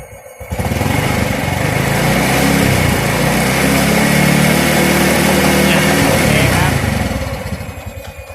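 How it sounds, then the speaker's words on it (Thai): A motorcycle engine revs up during a battery charging check, rising from idle to a loud, sustained high-rpm roar held for several seconds before easing back down, close by. "จะขอเร่งเครื่องอีกทีนึงครับ"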